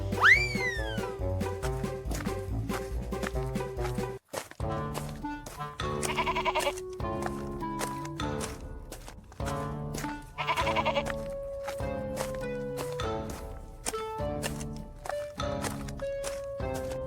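A goat bleats in a Hindi cartoon farm story, a short, wavering cry that rises out of steady background music.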